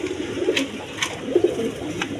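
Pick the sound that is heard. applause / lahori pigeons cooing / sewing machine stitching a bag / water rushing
lahori pigeons cooing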